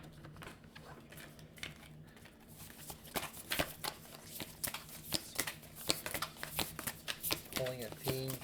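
Tarot cards shuffled by hand, a run of quick soft riffling taps close by under a quiet voice that speaks briefly at the end.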